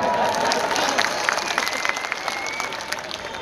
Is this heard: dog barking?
no